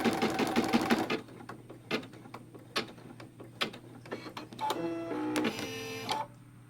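An embroidery machine stitches out a design, a rapid mechanical clatter of needle strokes at first, then separate clicks and ticks and a short whirring run of stitching, close and clear with no talking.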